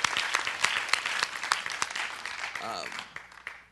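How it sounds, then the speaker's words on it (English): Applause for a young man at a green jobs talk, a room of scattered claps with sharp individual hand strikes standing out, steady and fairly close, tapering off near the end. "Give this young man a round of applause."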